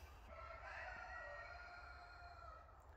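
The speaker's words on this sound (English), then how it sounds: "And the chickens say welcome too." Far off outdoors in the woods, a rooster crows, faint and drawn out, over a low steady background rumble, with chickens nearby.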